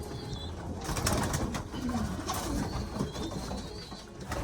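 A pearl-eyed racing pigeon hen coos softly and repeatedly in a loft, layered with other bird calls and light rustling, close and continuous.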